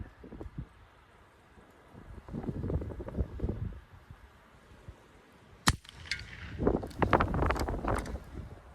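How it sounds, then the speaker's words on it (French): Strong wind gusting outdoors at a rifle range, with low rumbling buffeting that swells and fades in waves, broken by a sharp crack partway through and followed by a louder, busier stretch of noise. "il y a vraiment beaucoup de vent là"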